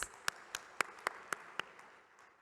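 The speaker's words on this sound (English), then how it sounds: "Let's have a big round of applause," Scattered, sparse claps from an audience at an accounting conference session, about seven distinct faint hand claps spaced irregularly over a quiet room, fading out toward the end.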